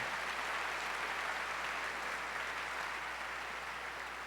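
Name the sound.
audience applause at a church sermon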